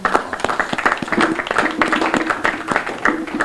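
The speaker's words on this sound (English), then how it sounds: "Give that a round of applause." A crowd at a Bronzeville Week kickoff event gives a round of applause, with dense overlapping claps and some faint voices mixed in.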